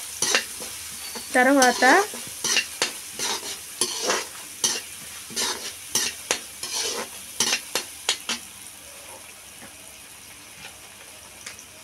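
Egg masala curry stirred in a pan, a quick series of close rhythmic spoon scrapes and sizzles that thin out toward the end, with a brief spoken word near the start.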